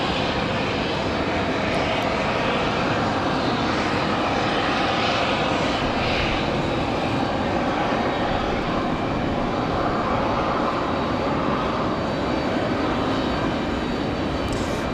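A Republic Airways jet departs Raleigh-Durham airport, its engine roar a loud, steady broadband wash that holds for the whole stretch with no talk over it.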